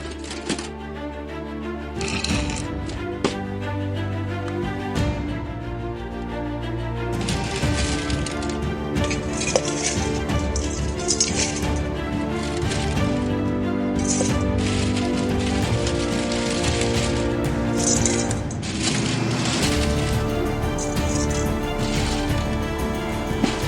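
Copper being torn out of a 75-lb sealed refrigeration unit, a long stretch of metallic clanks, cracks, snaps and scraping, close and busy, with no talking.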